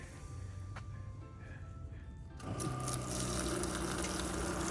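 A low hum, then instant hot water suddenly gushes from a tap into a wash tub mounted on a Jeep Gladiator, a steady splashing flow that continues to the end.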